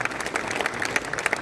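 A mushaira audience in Nizamabad breaks into dense, lively applause, many hands clapping close and continuously.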